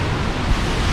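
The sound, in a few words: rough ocean waves crashing at Cilacap, Indonesia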